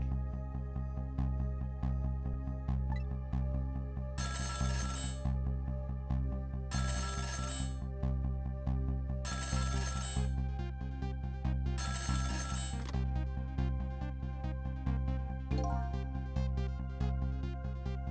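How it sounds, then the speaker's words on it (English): A telephone rings in the Ghost Trick: Phantom Detective video game, four repeated ring bursts at a regular rhythm over steady background music, clear and fairly loud. "the phone rang."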